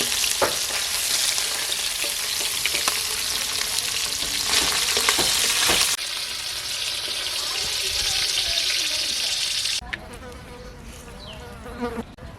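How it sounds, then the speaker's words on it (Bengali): Tangra fish frying in hot oil gives a loud, continuous crackling sizzle up close, shifting in intensity as the pan is stirred and the pieces are lifted out. "মাছ ভাজা হয়ে গেছে, মাছগুলো তুলে নেব।"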